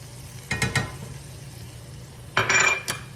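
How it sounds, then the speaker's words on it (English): Food is turned and stirred in a pan coated with honey and soy sauce, giving two short bursts of scraping and sizzling a couple of seconds apart over a low kitchen background hum. "you're supposed to just keep turning it in this so it gets all the sauces on it"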